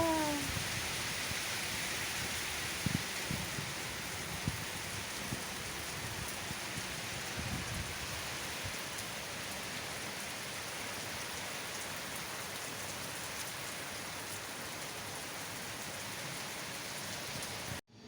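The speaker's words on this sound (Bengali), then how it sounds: "আবার বৃষ্টি নেমে গেল হঠাৎ" Heavy rain pours down outside a home in a dense, steady hiss that stays unbroken for the whole stretch, close and loud, with no voices.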